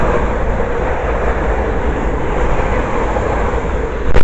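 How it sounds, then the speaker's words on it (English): A pair of London Northwestern Railway Class 350 electric trains passes close by at a station, a loud continuous roar and rumble of wheels and motors filling the whole stretch, swelling slightly at the end. "The next train passed by is a pair of London North Western Railway Class 350s"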